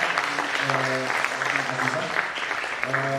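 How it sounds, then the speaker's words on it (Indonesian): Audience applause at a symposium session on art and activism, broadband clapping throughout while a voice with clear harmonic tones talks over it. "silakan tepuk tangan untuk Benny Widyo"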